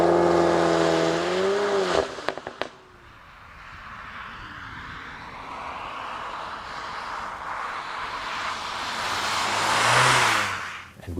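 A VW Golf R Mk8 with 333 hp, 20 years special edition, drives along a German road, its engine note rising and swelling loudly toward the end after a brief quieter stretch.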